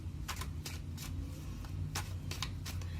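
Tarot cards are shuffled and drawn, a series of quick papery riffles and flicks in irregular bursts over a low background hum.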